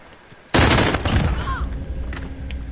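A PKM machine gun in Call of Duty Modern Warfare fires a loud, close burst that starts abruptly and rolls into a dense, sustained roar before trailing off.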